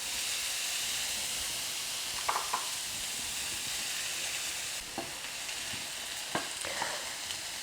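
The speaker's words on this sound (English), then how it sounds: "But I will ever so lightly saute them in a little bit of that bacon grease." Peppers and onions saute lightly in bacon grease with a quiet, even sizzle and hiss, broken by a few faint clicks of stirring.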